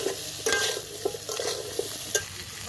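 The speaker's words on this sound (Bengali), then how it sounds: "এখন খুব ভালো করে একটু তেলের সঙ্গে ভেজে দেবো" Olive pickle frying in oil in a pan, stirred with a spoon that gives a few soft scrapes and knocks over a steady low sizzle, close with no talk.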